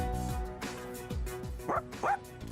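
A dog in Persona 3 Reload barks and yips several times at moderate distance over a soft, steady game music background.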